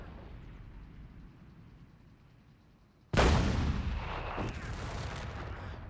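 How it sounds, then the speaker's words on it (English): A StuG D assault gun fires a single heavy shot in Company of Heroes 3, a sudden loud boom with a long rumbling tail after a stretch of low battlefield ambience. "The Stug D has been buffed. Apparently now it won't shoot its projectiles quite so high into the air"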